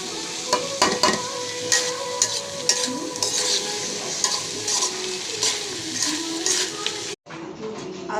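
Split chickpea lentils sautéing in a hot pan, a steady close sizzle with scraping stirs and occasional utensil clinks, running continuously before cutting off briefly near the end.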